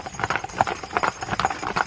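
Hooves of a four-horse hitch clip-clop at a walk on a farm park ground, a quick overlapping patter of steps at close range with no voices.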